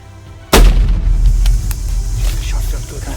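A single loud, close shot from a HEYM double rifle, fired at a Cape buffalo on a hunt in Mozambique, cracks out sharply and then rolls into a long echoing boom across the open bush.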